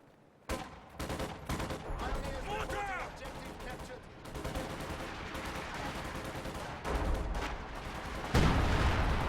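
Artillery barrage from an LEFH gun in a multiplayer strategy video game, with repeated booming blasts and crackling gunfire amid continuous battle noise, heard under a commentator's talk.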